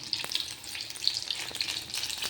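Ridge gourd bhaji frying in overheated oil, a dense continuous hiss and bubbling sizzle with light crackles, close and steady throughout.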